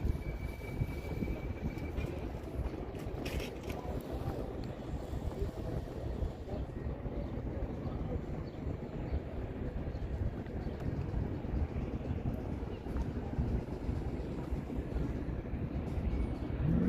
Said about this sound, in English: I just heard another train. It's a GO train this time.